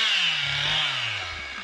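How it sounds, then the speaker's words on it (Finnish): A chainsaw cuts steadily about 30 metres away during young forest thinning, a distant, continuous whine that slowly drops in pitch as it bites into the wood, with no voices. "kun kuuluu saha-ääni tuosta vajaa 30 metrin päästä"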